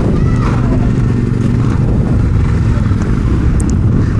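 A Kawasaki Barako 175 motorcycle engine gives a loud, continuous low rumble that holds steady throughout, with no clear rise in revs.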